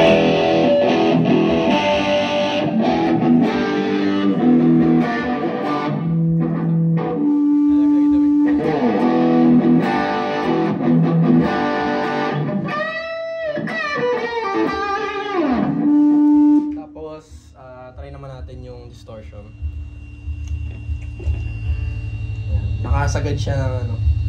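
An electric guitar plays through an overdrive/distortion pedal turned fully to the distortion side, with thick sustained chords and bends. A voice talks over it midway, and a low hum continues underneath.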